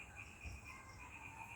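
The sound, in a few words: crickets chirping in the evening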